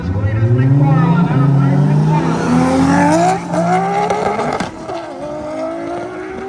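Race car launching in a roll race at an outdoor event, engine roaring loud and close as it winds up through rising gears, then fading as it pulls away.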